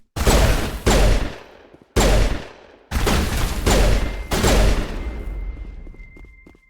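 Gunfire in the Mass Effect 1 Legendary Edition, five loud, close booming shots in an uneven rhythm, each trailing off with a short echo before the next, then fading into quieter ambient noise.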